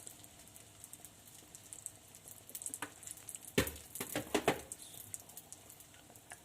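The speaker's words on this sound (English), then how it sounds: "Oh, that sizzle." Vegetarian fritters sizzle quietly in a pan over low heat, a soft crackling hiss that turns into a short cluster of sharper pops midway before settling again.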